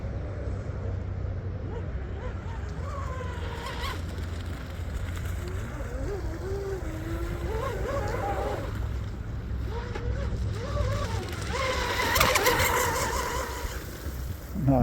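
An MHZ 655mm radio-controlled hydroplane powerboat runs on a pond with its engine running too wet, giving a continuous wavering buzz that rises and falls in pitch over rippling water, with a louder surge near the end.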